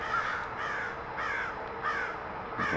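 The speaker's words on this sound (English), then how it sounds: "Oh, these crows." Crows caw outdoors around dusk at a camping spot, several harsh calls repeating in a loose rhythm at moderate distance, with no talking.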